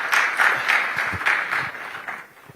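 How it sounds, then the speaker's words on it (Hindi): An audience welcomes a speaker to a Haryana event with applause, a dense patter of many hands clapping together, fairly loud at first and gradually thinning out. "एक बार तालियों के साथ स्वागत कर दीजिए।"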